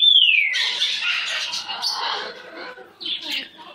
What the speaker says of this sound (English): That's my pretty, pretty bird.